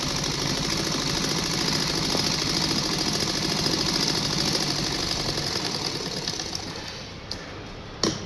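Sewing machine stitching a lined blouse, a steady fast mechanical whirr running continuously up close, easing off and stopping near the end.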